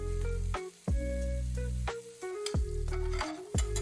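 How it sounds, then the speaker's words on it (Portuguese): Thick bacon lardons sauté in olive oil in a frying pan, a close, steady sizzle broken by several sharp clacks and scrapes of a utensil moving the pieces. "dá uma refogada no bacon"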